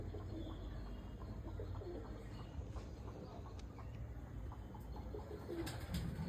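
Pigeons coo softly now and then over a low, steady outdoor rumble, with faint chirps scattered through, fairly quiet and without talk.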